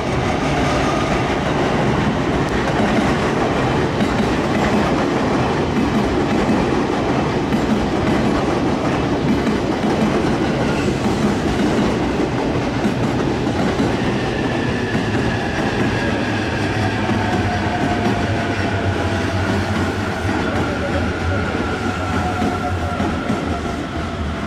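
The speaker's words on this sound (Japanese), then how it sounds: "これが、成田エクスプレスね、成田エクスプレス A ね。" A Narita Express train rolls past close by at Chiba Station with a continuous heavy rumble and clickety-clack of wheels, and a faint rising whine appears near the end.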